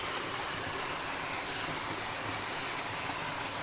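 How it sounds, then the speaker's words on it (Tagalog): Clean waterfall stream at San Sebastian rushing steadily in a broad continuous hiss, fairly faint and unbroken, with no talk. "Maganda po kasi malinis pa ang tubig, talagang batis po siya."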